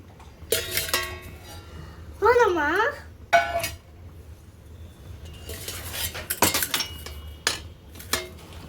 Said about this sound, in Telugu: ఇప్పుడు అన్నం క్యారేజీ కట్టుకుంటున్నాను